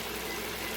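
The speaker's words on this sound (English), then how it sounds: "that's boiling" Water boiling in a cooking pot, a steady low rumbling bubble with a continuous hiss, close and moderately loud.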